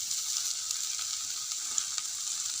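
Maggi chow mein noodles stirred in a hot pan, with a steady bright sizzle and faint scraping of the stirring, close and continuous, no voices.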